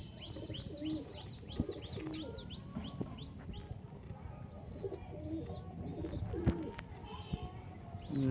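Pigeons of an Indian line coo softly and steadily alongside scattered chirps and tweets from other birds, a busy low bird chorus with faint voices in the background.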